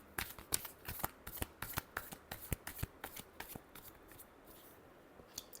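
Tarot cards are shuffled by hand in a quiet room, a rapid series of soft, crisp flicking clicks in quick bursts, close and alone with no talking.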